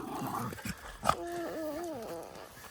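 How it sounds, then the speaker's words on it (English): A puppy gives soft whines and a short rising yelp, close by, with faint rustling and background voices in between. "There's a puppy in there, I think."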